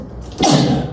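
One sharp, close sneeze bursts out about halfway through, preceded by a short breathy intake, with no talk over it.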